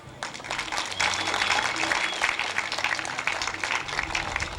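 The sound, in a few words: audience applause for sponsors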